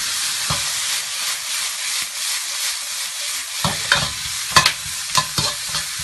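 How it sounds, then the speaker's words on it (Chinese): Wood ear mushrooms and fresh chili peppers being stir-fried in a hot wok, a steady loud sizzle with hissing steam, later broken by several sharp scraping clatters of the spatula tossing the food. "然后把那个木耳和那个鲜椒都放到里边炒一炒。"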